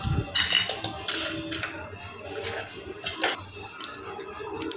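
A small spoon stirs rice for biryani in a tiny miniature cooking pot, making quick metallic scrapes and clinks in a few close bursts.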